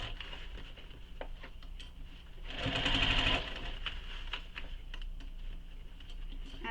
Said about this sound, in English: Again, keep sewing all the way around, keeping that lining out of the way.